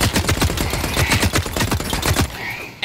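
Automatic weapon fire in The Cycle: Frontier, a dense burst of rapid close shots lasting about two seconds before cutting to quieter rustling and a faint tone.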